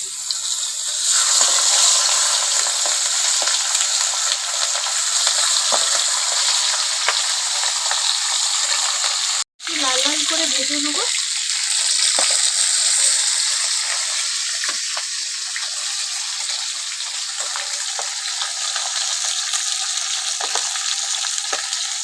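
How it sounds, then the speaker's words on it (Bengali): Fish heads frying in hot oil for a cabbage stir-fry, a loud, steady sizzle that runs nearly unbroken, with a brief cutout midway followed by bubbling crackle as the oil settles back. "তেল গরম হয়ে গেছে মাছের মাথা দিয়ে দেবো"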